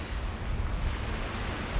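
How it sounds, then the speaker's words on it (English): Ocean waves on a beach wash in a continuous soft roar, with gentle surges and some wind buffeting the microphone and no voices. "The sound of the waves is so magical to me."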